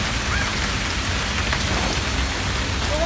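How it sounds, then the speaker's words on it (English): Heavy rain pours steadily and densely, a continuous loud hiss of drops hitting surfaces close by, with no voices. "It was raining hard."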